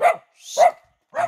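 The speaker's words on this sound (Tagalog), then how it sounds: "Aso talaga." A dog in a rural provincial setting gives three sharp, separate barks spaced about half a second apart, close and clear with no talk over them.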